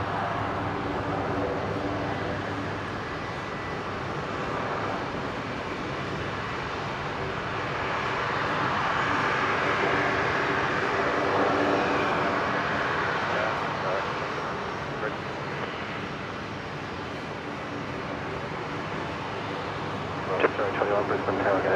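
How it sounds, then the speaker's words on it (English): A Royal Australian Air Force C-130J Hercules at Brisbane airport, a steady turboprop drone that swells and fades over time, heard under radio chatter from air traffic control. "the Royal Australian Air Force Herc, operating the repat flight from Namia,"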